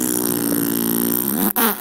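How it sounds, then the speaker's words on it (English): A dog's fart sound effect in a read-aloud storybook, one long loud buzzing, rasping blast that cuts off abruptly and then gives a short final burst. "It was the worst fart of his life. It made a tremendous noise and shot him across the room."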